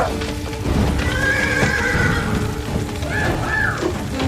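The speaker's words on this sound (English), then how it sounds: "Get that horse out of here!" A horse whinnies loudly and repeatedly amid clip-clopping hooves during a barn rescue, with steady rain-like noise underneath and two distinct neighs rising near the middle and end.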